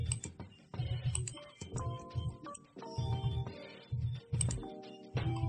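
Keys clack on a computer keyboard, irregular bursts of sharp clicks with short pauses between them, close but fairly quiet, over a faint low background.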